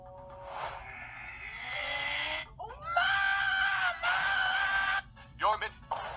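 A cartoon character screams in several loud, sustained bursts, with brief gaps and sudden shifts in pitch between them.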